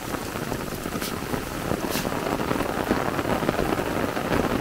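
The first rain after months of drought falls steadily on a farm near ponds, a dense, even patter and hiss on the ground and surfaces that grows slightly heavier, with no one speaking.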